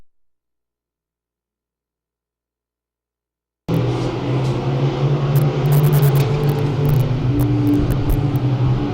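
Race cars roar around a Thunder Mountain dirt track, one sliding sideways down the front straightaway; after a few seconds of silence a loud, steady engine rumble sets in and holds, with crowd or track noise layered on top.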